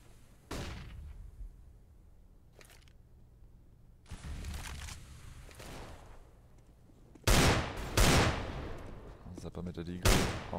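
Desert Eagle pistol fire in a Counter-Strike match on the de_mirage map, several sharp separate shots spread across the clip, the loudest coming near the end, with quieter game noise between them and no voices.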